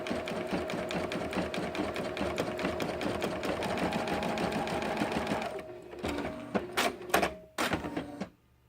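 Singer Quantum XL-100 sewing machine stitching an embroidery design, a fast rapid-fire needle chatter running steadily for several seconds, then breaking into a few separate bursts and stops, close and clear with no talking.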